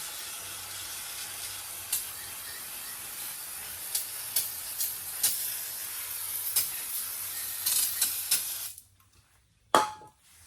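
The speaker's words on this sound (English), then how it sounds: "I'm just going to clean that whole area up, and we'll go from there. Little parts cleaner." Aerosol parts cleaner sprayed in a steady hissing stream over the engine area of a 1972 Volkswagen Super Beetle, with a few faint clicks through it before the spray stops and a brief clatter follows.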